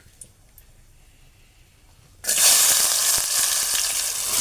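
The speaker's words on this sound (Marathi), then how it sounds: "तर आपल्या आता मी याच्यामध्ये कांदा घालणार आहे." Chopped onion dropped into hot oil, a quiet lull suddenly bursting into a loud, dense close sizzle that holds steady to the end.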